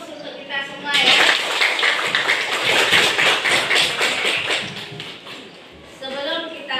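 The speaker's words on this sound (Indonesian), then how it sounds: "Aplaus untuk kita semua ya" A classroom of students breaks into applause, with dense, rapid clapping lasting several seconds before tapering off, mixed with voices talking at the start and end.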